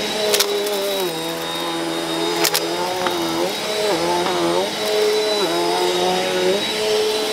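A Eureka Airspeed upright vacuum cleaner powers on and runs with a loud, steady whine, with its motor pitch dipping and recovering several times, plus a few sharp clicks near the start.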